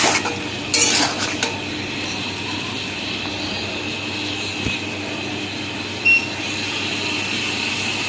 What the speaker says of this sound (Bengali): চিকেনের সঙ্গে সসটা খুব ভালোভাবে কড়াইতে নেড়ে চেড়ে নিয়েছে